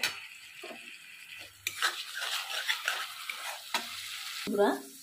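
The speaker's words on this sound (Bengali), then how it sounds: "দিয়ে ভালো করে ভেজে নেব মশলাটাকে" Spice paste for a chicken curry frying with a splash of water, a hissing sizzle punctuated by spoon scrapes and knocks on the pan, ending in a louder bubbling burst.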